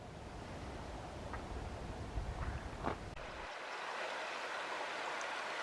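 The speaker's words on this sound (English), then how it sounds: "There's a lovely stream down here," A stream flows through the Ribble Valley countryside near Hurst Green, a soft, steady watery rush at low level, with a few brief knocks midway before the sound thins to a quieter hiss.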